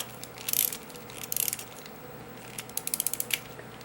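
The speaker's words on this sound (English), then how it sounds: "So I'll wind it up first." A clock mainspring is wound up by hand, making short bursts of rapid ratchet clicks from the pawl, close and fairly quiet, with brief pauses between turns.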